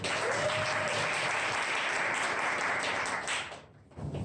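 A crowd claps for a presenter at a first self-promotion contest, a thick, sustained wash of applause that fades out near the end before a brief quiet gap.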